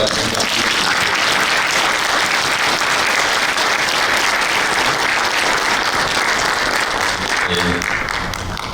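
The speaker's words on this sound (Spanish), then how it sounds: "yo quisiera que un gran aplauso para ellos" A large audience bursts into a big, sustained round of applause at a community gathering, dense clapping filling the space steadily for the whole stretch before tapering slightly at the end.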